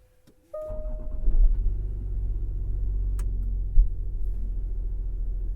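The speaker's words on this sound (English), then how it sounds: "That means 3-liter, 6-cylinder turbo diesel." A 2016 Range Rover HSE Td6 with a 3-liter six-cylinder turbo diesel starts up and settles into a steady, low rumbling idle close by, with no talking over it.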